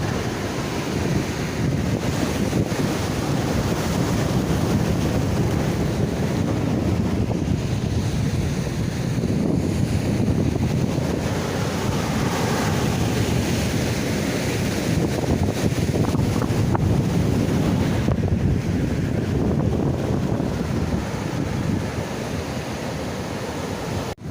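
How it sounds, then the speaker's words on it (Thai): Strong wind roars steadily at a Thai seashore after rain, blending with crashing surf in a loud, continuous rush that never lets up. "ตอนนี้ก็บรรยากาศด้านล่างก็ขึ้นลมก็ค่อนข้างแรงนะครับ"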